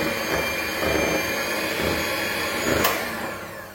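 Electric hand mixer whirring steadily as it beats butter for lemon cupcakes, a loud continuous motor drone with a sharp knock near the end.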